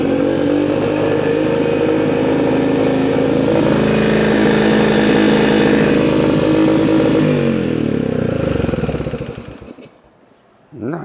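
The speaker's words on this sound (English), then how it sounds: "next step is we fire up this bike so you can hear it run" A Yamaha dirt bike engine runs loud and close at a steady, raspy idle for several seconds, then sputters and dies, with a brief burst at the end.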